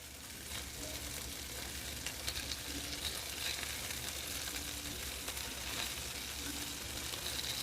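Homemade meatballs frying in a pan with marinara sauce, giving a steady close-up sizzle that stays even throughout, with faint stirring scrapes and no talking.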